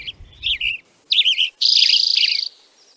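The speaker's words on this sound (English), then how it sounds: "This is an audio clip recorded of the birds that make their home on the north side of Mount St. Helens, near Coldwater Lake." Songbirds near Coldwater Lake on the north side of Mount St. Helens in June, several clear close chirps and trilled phrases, one sustained bright warble, over quiet background.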